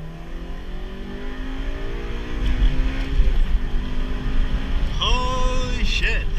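From inside a 2006-2011 Honda Civic Si with the window partly down, the engine revs up steadily under hard acceleration, pitch climbing through the gears with a shift near the end, loud and close throughout.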